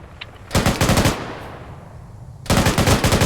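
Loud machine-gun bursts from a military video game, fired at a BTR armored vehicle: two rapid rattling volleys close by, separated by a brief echoing pause.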